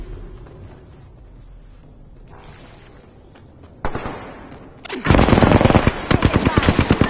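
Quiet game ambience gives way to a sharp impact, then loud, rapid bursts of automatic gunfire in a PS4 video game, dense repeated shots filling the final couple of seconds.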